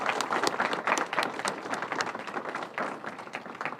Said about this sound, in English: I'm going to just applaud the families there.